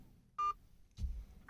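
A phone keypad on a call to a Starline car alarm system for a BMW iX gives a short, clear dialing tone, followed by brief faint beeps, alone with no talk.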